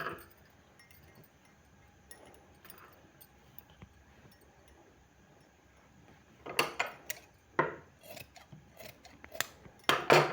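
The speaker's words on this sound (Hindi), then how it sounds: "बीच में इस तरह से काट लेना है।" Scissors snip through fabric for a sleeve, with quiet handling at first, then a run of sharp close cuts in irregular bursts over the last few seconds.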